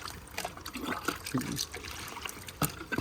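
Water is tipped out of a bucket and runs in a loose, splashing trickle, with uneven gushes close by over a few seconds.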